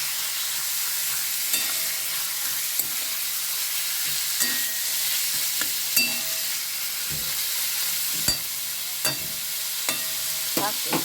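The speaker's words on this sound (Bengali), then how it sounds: "চিকেনটা দিয়ে এখন ভালো করে আমি কষবো।" Chicken being sautéed in a pan for a kima and kabuli chana dish, steady sizzling frying with repeated scraping stir strokes throughout, close and alone.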